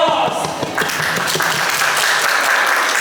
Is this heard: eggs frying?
no